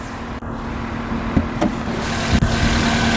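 A 2005 Toyota Corolla S 1.8-liter DOHC 16-valve inline four-cylinder engine idles steadily with a low, even hum, broken by a few sharp clicks and ticks.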